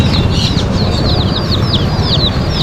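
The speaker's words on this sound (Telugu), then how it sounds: "ఇప్పుడు ఈ కోడి పిల్లలకు విముక్తి కలిగిస్తున్నాం అన్నమాట" Young chicks being released from confinement, chirping in quick repeated high peeps over a steady, dense rumble of background noise, with no talking.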